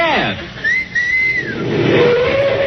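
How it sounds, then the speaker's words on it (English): A person whistles for a taxi on a 1940s radio comedy show, with a clear rising and falling two-note whistle followed by a long sustained tone, and traffic noise underneath. "if you want a taxi, just whistle"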